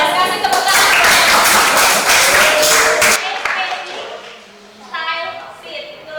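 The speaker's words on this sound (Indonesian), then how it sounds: "Kasih tepuk tangan." A classroom of students claps for a classmate, a loud, dense burst of applause lasting about three seconds before it breaks off, after which a teacher's voice talks.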